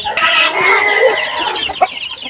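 Backyard hens cluck and squawk close by in a loud, busy chorus, with a short sharp call near the end.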